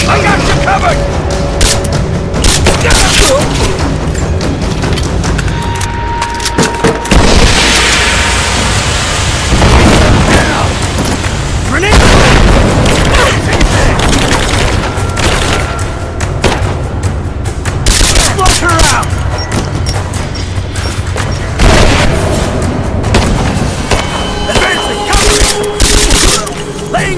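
A Rise of the Tomb Raider village battle rages with dense bursts of gunfire and heavy explosions booming throughout, loud and near, while combat voices shout over the chaos.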